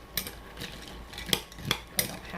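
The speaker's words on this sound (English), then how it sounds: "I'm just going to give this a little stir before I microwave it" A spoon scrapes and clinks against a bowl while stirring a bag of ingredients for homemade Snickers bars before microwaving, about five light, irregular taps over two seconds, fairly quiet.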